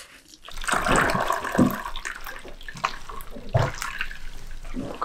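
Water splashes and trickles from a window-washing sponge soaked in a bucket and wrung out by hand, with a steady wet drip and a few heavier splashes, close by and alone.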